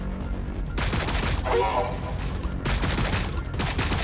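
Bursts of massed gunfire and blasts from the Warhammer 40,000: Battlesector strategy game, loud rattling volleys that start abruptly, pause briefly, and resume in dense waves.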